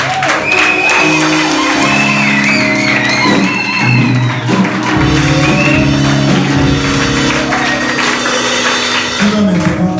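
A church congregation acclaims and cheers at a worship service, with shouts, whoops and applause rising together over sustained music, loud and continuous throughout.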